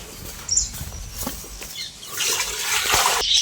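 Water gushes into a bucket for a bath, hot water topped up with cold, in uneven splashing bursts that grow louder and fuller toward the end, heard close and alone.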